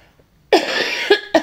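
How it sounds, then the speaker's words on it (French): A woman coughs three times in quick succession, close and fairly loud, with short sharp bursts separated by brief pauses after a near-silent start. "je suis toujours en train de tousser devant la caméra"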